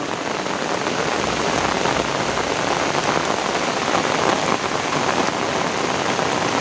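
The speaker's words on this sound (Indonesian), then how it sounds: "karena di sini kondisinya sedang hujan" Steady rain pours down in a rural Indonesian village, a dense, even hiss of drops striking surfaces that stays loud and unbroken throughout, with no voices.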